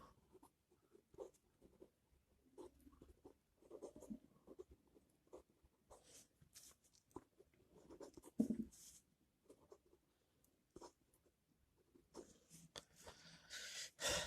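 Pen or chalk writing out a calculus derivation, with intermittent scratching strokes and short pauses between them, quiet and close, with no speech.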